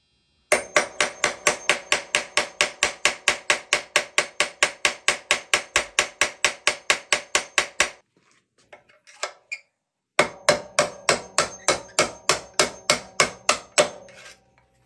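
A rusted pin being hammered out of a 1975 Harley-Davidson SX250 motorcycle, a long run of sharp, evenly spaced metallic strikes, loud and close, then a brief pause and another fast burst of blows.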